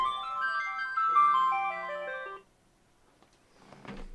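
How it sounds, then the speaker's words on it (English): A phone ringtone plays a short descending melodic jingle, clear and fairly close, lasting about two seconds before cutting off into near silence with a faint rustle afterward. "Sorry, phone rang."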